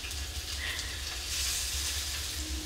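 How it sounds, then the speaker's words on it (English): Salmon fillets lightly cooking in a pan sprayed with avocado oil give a steady, close sizzle and crackle with no pauses, and no one speaks. "I'm just gonna spray some avocado oil. We're gonna lightly cook our salmon."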